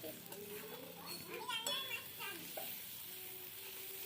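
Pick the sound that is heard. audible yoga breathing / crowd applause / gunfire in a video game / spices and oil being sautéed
spices and oil being sautéed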